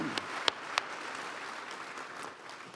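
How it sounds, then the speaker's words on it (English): An audience at a Western heritage awards ceremony applauds in a faint, steady patter of clapping, with a few sharper individual claps standing out near the start. "Let's give them another round of applause."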